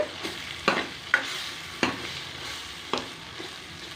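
Kuzhambu chili powder masala frying in hot oil in a pan for brinjal and dried-fish kuzhambu, a steady close sizzle broken by several sharp scraping stirs of a spatula.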